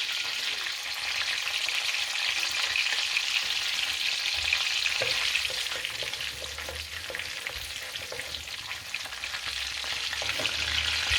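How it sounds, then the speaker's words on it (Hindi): Cumin seeds sizzle steadily in hot butter in a kadai, a continuous loud frying hiss with faint crackles and no voices. "बटर को हमने गर्म कर लिया है कढ़ाई में और इसमें डालेंगे जी पहले ज़ीरा"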